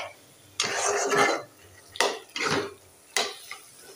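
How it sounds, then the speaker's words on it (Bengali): A wooden masher presses potato curry in a pan, giving several separate scraping, squelching strokes of uneven length with quiet gaps between them, close and clear. "এই দেখো অরণ দিয়ে একটু চেপে চেপে আলু টালুগুলো সুন্দর করে ঘন্ট করে নামিয়ে নিব"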